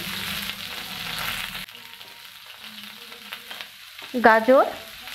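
Half a capsicum and other vegetables frying in a pan for Maggi masala, a soft sizzle with stirring sounds that fades partway, then a few brief clatters and scrapes of a utensil near the end.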